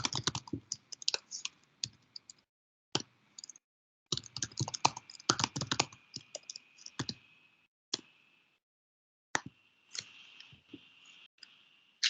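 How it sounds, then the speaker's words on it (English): Bursts of computer keyboard typing come in irregular runs of quick clicks with short pauses between them, fairly close and alone with no voices. "So let me type the stuff."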